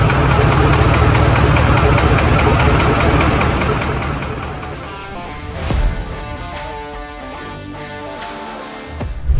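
A Ford F1000 4x4 truck engine runs loudly with a rough, knocking rumble, then eases down; a few sharp clicks and faint talk follow near the end.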